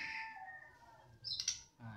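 An oriental magpie-robin sings a short, bright phrase of whistled notes, with a sharper burst of chirps near the end over a quiet background.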